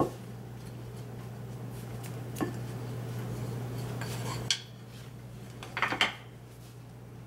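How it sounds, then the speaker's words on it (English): Raw mushroom salad with shaved cheese being tossed in a bowl, giving soft scraping and clinking of utensils against the dish over a steady low hum, with a couple of sharper knocks near the end. "let's go mix a little bit"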